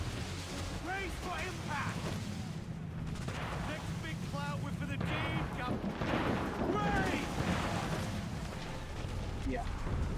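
Naval mortar fire on a sailing ship in Assassin's Creed IV: Black Flag. Continuous booming gunfire and blasts roll under steady sea and battle noise, with voices shouting over the din.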